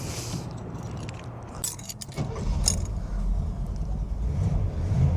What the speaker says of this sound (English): Fires right up, nice and quiet too on here, no super loud mufflers.